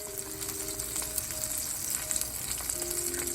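Salmon searing in a hot pan, a continuous crackling sizzle of fat and steam, close and steady with small pops throughout, no voices.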